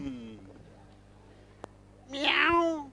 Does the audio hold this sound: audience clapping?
no